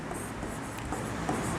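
Writing on a board during a physics lesson, a short steady scratching stroke, close and continuous, with no voice over it.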